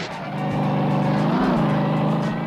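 General Lee car from The Dukes of Hazzard performing a two-wheel stunt, engine revving loud and steady throughout with a tonal whine that bends briefly mid-clip, no voices.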